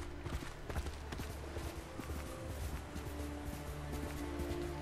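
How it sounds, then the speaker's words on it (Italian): Horse hooves pounding and splashing through mud in a video game trailer, a steady run of dull thuds over a dense, loud backdrop of music and effects. "Il cavallo che alza il fango, ma va bene così."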